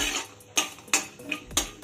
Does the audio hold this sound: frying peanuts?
yes